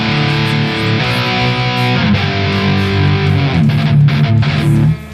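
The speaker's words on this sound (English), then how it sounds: "I'm just using a Les Paul with humbuckers in the bridge." Les Paul electric guitar with bridge humbuckers through an amp's crunch channel, strummed in a steady distorted rhythm of chords with clear attacks, loud and alone.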